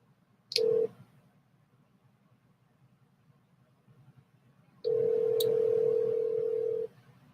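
A phone call is placed: two short clicks, a brief tone, then a sustained steady dial tone lasting about two seconds, clear and alone over faint background hiss.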